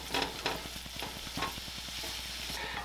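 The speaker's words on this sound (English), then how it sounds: "I'm going to go ahead and brown this off" Ground meat browning in a hot pan for burger bowls: a steady close sizzle with a run of quick, regular ticking scrapes from stirring, and no voices.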